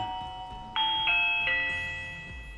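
A Reolink doorbell chime plugged into a wall socket rings out in a few bright, bell-like tones that overlap and ring on, slowly decaying in a quiet room.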